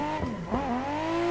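Tires squeal and skid under a steady engine drone as a car is flicked sideways with the handbrake in a racing video game played on a Logitech G920 wheel, with pitch sweeping and wobbling through the slide.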